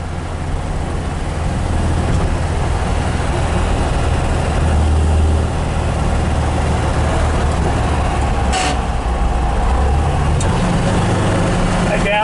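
A 1967 MGB GT engine while driving, a steady loud interior drone with road rumble that shifts slightly in pitch over the stretch, a person talking over it.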